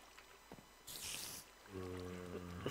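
Water filling a container in Minecraft, a short burst of bright splashing pour that stops abruptly, followed by steady tonal game background sound.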